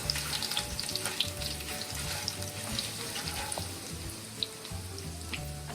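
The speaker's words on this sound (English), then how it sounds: "just a teaspoon of grated ginger. Just stir it around so it cooks a little." A teaspoon of grated ginger sizzles in a pan on a low flame, giving a steady, close frying hiss with small pops and faint scraping from stirring. No one speaks.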